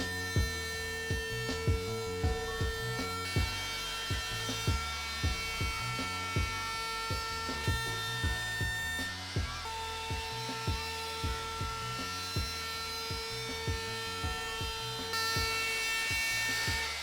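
An electric router cuts a 1/8 inch round-over along the edges of wooden shelf pieces, a steady high whine with repeated short bursts of cutting as each edge is passed, near and continuous.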